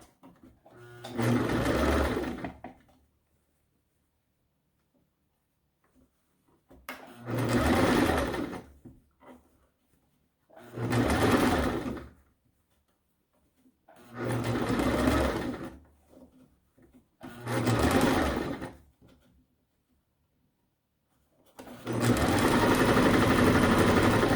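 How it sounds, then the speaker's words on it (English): Six separate bursts of a sewing machine stitching a washable fabric face mask, each a few seconds of rapid, close, even mechanical whirring with clear pauses between runs, the last burst longer. "So now I have to put a stitch on top of this one here to make it nice and has a nice finish to it."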